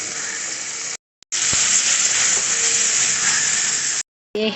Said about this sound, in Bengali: চিংড়ি মাছটা ভাজা হয়ে গেছে, বেশি ভাজবো না চিংড়ি মাছটাকে।